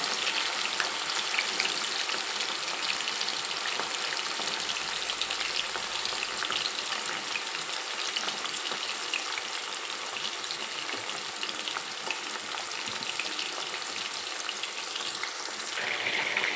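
Chicken fries on low heat in a pan, giving a constant, even crackling sizzle with fine popping throughout and no speech.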